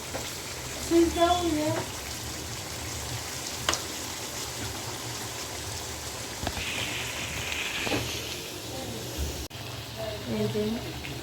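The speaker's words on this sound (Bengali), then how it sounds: "পেঁয়াজ ভেজে নিয়ে এখানে যে মাংস ম্যারিনেট করা ছিল সেটা ছেড়ে দিয়েছে" Marinated meat sizzles with fried onions in a hot wok, a steady crackling hiss broken by a few sharp metallic knocks of stirring and brief scraping, with short bursts of nearby talk.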